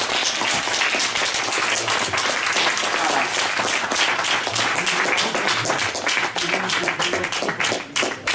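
Audience applause in a library hall during a book presentation, a dense sustained clapping that stays loud and steady for the whole stretch, with faint voices mixed underneath.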